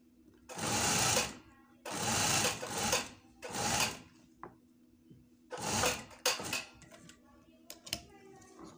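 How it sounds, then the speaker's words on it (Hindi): A sewing machine stitches piping around a shirt in loud, close bursts of rapid mechanical chattering, several runs of a second or two separated by pauses with small clicks. "चारों तरफ की एक ही सिलाई आएगी इसकी"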